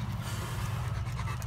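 A dog panting close by, with quick rhythmic breaths over the whole short moment and no talking over them.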